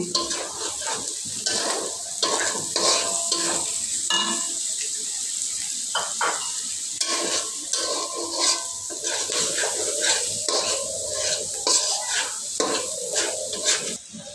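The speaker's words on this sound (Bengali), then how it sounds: "এরপর আমরা দিচ্ছি গাজর, এবং এগুলো সব কিছু একসাথে নাড়াবো।" Carrots, green chilies and other vegetables stir-frying in a pan for chow mein, with steady sizzling and repeated scraping and clinking of a spatula against the pan throughout.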